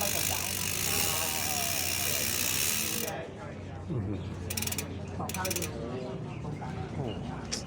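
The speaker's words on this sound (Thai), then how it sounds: "เนี่ยให้ฟังเสียงสเตอร์ ดังดีฮะ" A bicycle freewheel sprocket ratchet, on a mountain bike or BMX at a bike market, spins with rapid, loud clicking, then settles into slower intermittent clicks, while someone talks over it.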